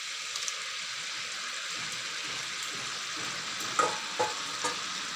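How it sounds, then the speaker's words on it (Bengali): Fried eggplant pieces stirred into a spice mixture in a pan, with a steady soft frying hiss and a few louder scraping stirs near the end. "এখন এই যে ভাজা বেগুনগুলো দিয়ে দেবো।"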